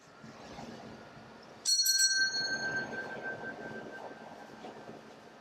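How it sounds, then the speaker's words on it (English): A small silver bell rings once with a bright metallic strike in a room at a haunted hotel, its clear tone ringing on for several seconds over a steady background hiss. "Use of my silver bell."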